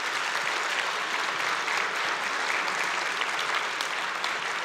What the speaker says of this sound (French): Alors, j'aimerais vous applaudir premièrement.